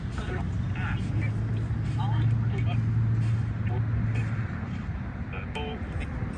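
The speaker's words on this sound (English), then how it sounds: "the cars are driving by" Cars driving by outdoors make a steady road rumble with a swelling pass in the middle, while several voices talk over it.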